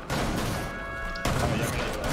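Dense rapid gunfire from a shotgun-only match in Rainbow Six Siege, loud and continuous, with a sharper burst of shots near the end.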